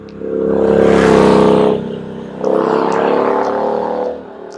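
On a road ridden along on a Brompton folding bicycle, a motor vehicle passes near in two loud swells, each rising and fading away, with no talking.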